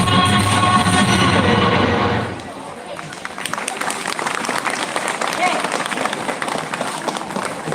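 A sung Hindi performance at a live DJ event cuts off, and a steady wash of soft, fairly quiet audience clapping with crowd noise follows.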